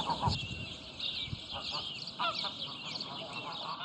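Domestic geese honking in the village of Bestan Sur, a run of repeated nasal honks overlapping one another at moderate distance, with no talk.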